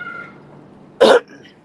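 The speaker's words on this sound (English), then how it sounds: "that coughing that you hear me doing is my allergies" A single sharp cough bursts out about a second in, loud and close, after a quiet stretch with faint background noise.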